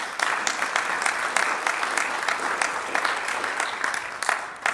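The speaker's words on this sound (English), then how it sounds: "A big round of applause." A crowd claps steadily in a moderate round of applause, somewhat distant, with no talking over it.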